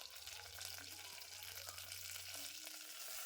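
Ground tomato paste fries in oil with dried red chilies and curry leaves for raw mango rasam, a soft, even sizzle heard faintly over a low background hum, with no talking.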